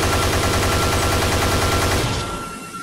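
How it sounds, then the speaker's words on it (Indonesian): Police open fire on Robocop in a dense, continuous volley that rattles loudly for about two seconds, then quickly thins into a short echoing tail. "Robocop disambut dengan tembakan gencar oleh polisi"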